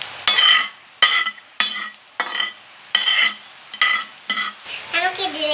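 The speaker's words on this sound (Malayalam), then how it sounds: "നമുക്കിത് ഇളക്കി കൊടുക്കാം." Dried red chillies frying in hot oil in a pan are stirred with a utensil, giving repeated scraping strokes about once a second over a steady crackling sizzle, close and fairly loud.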